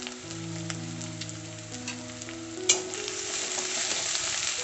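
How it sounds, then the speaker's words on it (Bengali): Capsicum frying in a pan with garlic for chicken filling, a steady close sizzle and crackle throughout with occasional stirring scrapes and one sharp clatter midway. "এবার এগুলোকে একটু ফ্রাই করে দেবো। এবার এর মধ্যে আমি ক্যাপসিকাম দিয়ে দিচ্ছি।"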